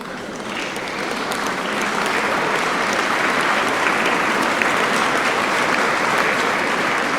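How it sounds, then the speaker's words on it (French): Stock applause sound effect from a Magix video-editing program: a dense crowd clapping that swells in over the first two seconds, then holds steady and loud to the end, with no voices over it. "ou des gens qui applaudissent"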